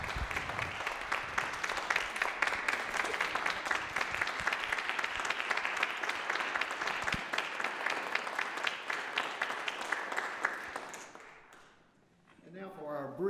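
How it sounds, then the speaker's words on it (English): An audience at a university morning event applauds in a sustained burst of clapping that fills most of the stretch, then fades out, followed by a voice speaking. "President Warwick and President Knight, would you please applaud them for their great responses during this interview session?"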